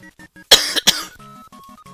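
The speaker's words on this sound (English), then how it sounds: "And I'm also gonna be coughing a lot too." A sick person coughs twice in quick, harsh bursts close to the microphone, with soft tonal Minecraft game sounds before and after.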